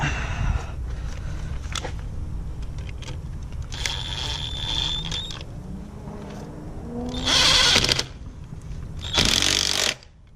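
A hand tool tightens the mount of an Injen SRI short ram intake on a Ford 5.0, giving bursts of ratcheting and metallic working noise, with two louder close bursts near the end over a steady background.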